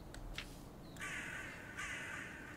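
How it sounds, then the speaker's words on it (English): Crows caw in the video game Little Goody Two Shoes, a few harsh calls close together over a soft background hiss, with no voices. "Oh, the crows are back."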